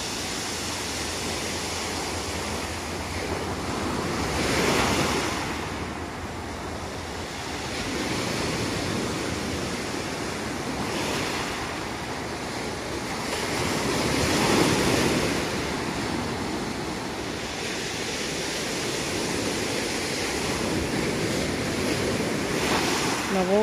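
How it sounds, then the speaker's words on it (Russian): Sea waves break on the shore in Alanya, Turkey, in slow repeated swells of surf roughly every five seconds, with wind buffeting the microphone and no talk. "На волны можно смотреть бесконечно."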